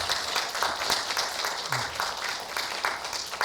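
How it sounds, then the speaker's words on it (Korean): An audience at a Korean school lecture event applauds, a steady wash of many hands clapping at moderate distance, with faint voices mixed in. "멀리서 와서 이야기를 들려준 박채연 학생에게 한 번 더 박수 한번 보내주시기 바랍니다"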